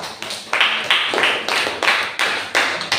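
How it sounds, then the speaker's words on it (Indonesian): A small class claps for a student group after its presentation, with bursts of close handclaps in several uneven waves, each swelling and fading over a few seconds. "tepuk tangan untuk kelompok 2"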